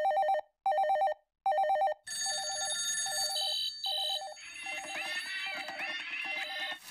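A cartoon telephone rings three times in sharp repeated bursts, then a steady ringing tone carries on under a busy, jangling musical backdrop, loud and close.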